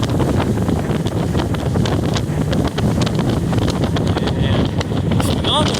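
A 2017 Sylvan 820S pontoon boat runs steadily at speed on a lake, its broad engine and water rush heavily buffeted by wind noise throughout, with faint chirps near the end.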